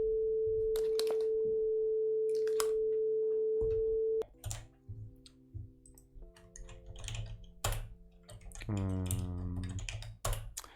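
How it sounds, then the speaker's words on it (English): A 440 Hz sine wave test tone holds steady for about four seconds, then gives way to quiet keyboard typing and clicks, with a brief burst of rising chirps near the end. "we should hear the 440 Hertz tone, sine wave tone, hopefully"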